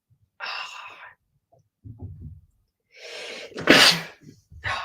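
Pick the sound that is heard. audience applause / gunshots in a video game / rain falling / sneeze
sneeze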